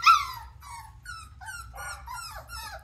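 Mini Australian Shepherd puppies whimper and whine in a string of high, wavering cries with short gaps between them. They sound close by over a low background rumble and come while the pups hesitate at the top of a staircase.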